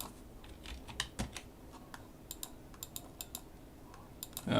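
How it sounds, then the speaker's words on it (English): Computer keyboard keys clatter in quick, uneven bursts of sharp clicks, close and clear over a quiet room. "you must be always careful when you are typing"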